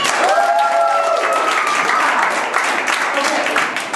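Audience applause at an improv comedy show, a steady dense wash of clapping held loud for the full four seconds, with a voice briefly audible over it.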